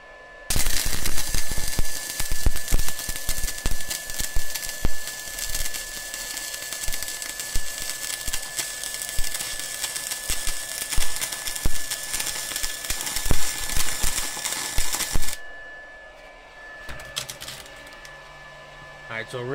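A cheap handheld stick welder running hot, around 4.5 to 5, on thin metal. It gives a steady loud crackling, sputtering hiss with sharp pops for about fifteen seconds, then cuts out to quiet room noise.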